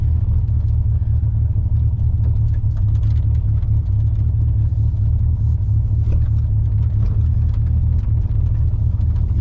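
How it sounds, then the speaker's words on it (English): Steady low road rumble and engine drone from a moving car, with faint crackling grit from sticky tires picking up gravel underneath throughout. "You guys will probably hear all the gravel these tires pick up."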